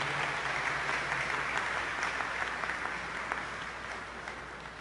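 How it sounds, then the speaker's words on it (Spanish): A congregation applauds at a Sunday Mass to congratulate parents, steady crowd clapping that fills the church and fades gradually toward the end, with no voices over it. "demos un aplauso de felicitación a estos padres"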